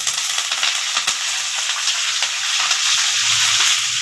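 Green chilies and curry leaves fry in a pan for fried rice, giving a steady, loud broadband sizzle with faint stirring clicks throughout and no voices.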